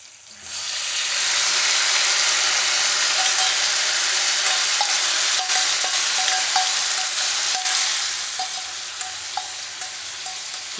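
Chicken frying in a pot for Muradabadi biryani, a loud continuous sizzle and hiss with scattered scraping stirs, no talk over it.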